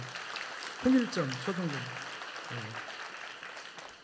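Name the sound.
congregation applauding in church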